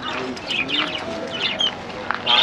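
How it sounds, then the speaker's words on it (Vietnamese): Birds for sale at an outdoor flea market stall in Mt Gravatt, Australia, chirping and tweeting in quick bright bursts, fairly close, over a steady murmur of market crowd noise. "Đây có bán chim nữa cả nhà ơi."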